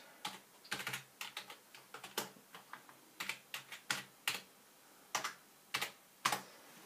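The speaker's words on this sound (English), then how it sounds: "Let's just type in something random." Someone types on a computer keyboard, with sparse, irregular clusters of sharp key clicks separated by short pauses. The clicks are close and crisp against a quiet background, with no speech.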